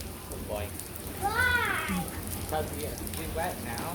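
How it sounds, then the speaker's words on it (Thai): Steady rain patter fills the background while children's voices chatter and call out over it. "บรรยากาศฝนตก"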